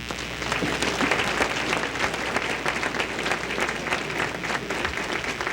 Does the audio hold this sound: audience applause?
yes